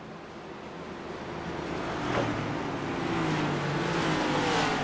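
Race cars rolling on a pace lap at Watkins Glen in iRacing, a steady broad engine rumble that swells slightly as the pack passes, with no talking.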